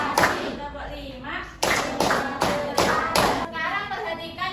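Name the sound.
children doing the "tepuk konsentrasi" clapping routine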